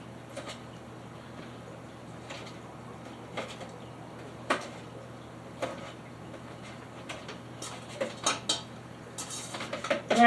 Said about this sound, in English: Get a spoon, just make sure it's mixed up good.